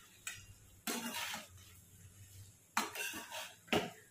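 A spoon stirs potato chutney, made without onion, in a pan over low gas, giving three bursts of scraping and clinking against the pan with quiet pauses between them.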